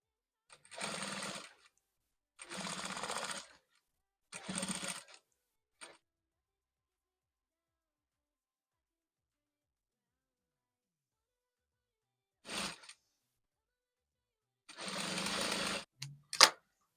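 A sewing machine stitches a sleeve into the armhole of a milkmaid dress in short bursts: three close runs, then a long quiet pause before two more, with fast rhythmic whirring in each burst.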